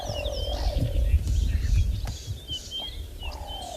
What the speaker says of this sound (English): just to listen to all the different birds around.